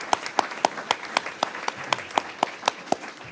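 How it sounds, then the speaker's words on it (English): Steady, evenly spaced clapping at a school board meeting, about a dozen sharp claps in a quick, regular rhythm, heard clearly without talk. "I think choir, Bree and Hannah, I just wanna give a big round of applause again for the performance tonight."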